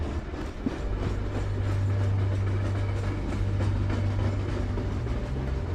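A train running through a deep rail tunnel such as the Gotthard Base Tunnel in Switzerland, a loud steady rumble with a low drone and faint clickety-clack of wheels throughout, no voices.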